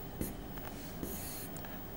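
A math expression written by hand: soft scratchy strokes over a steady background hiss, with a couple of brief louder scrapes.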